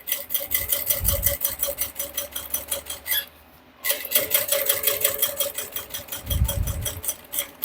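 A sewing machine stitches along the edge of a handmade bag in a fast, even rhythm of needle clatter, pausing briefly midway before resuming; a low motor hum and occasional dull knocks sit underneath.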